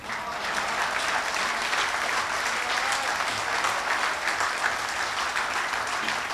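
Steady, dense applause from a large audience at a comic poetry recital (kavi sammelan) at SBI LHO Chandigarh, sustained evenly throughout with no pauses.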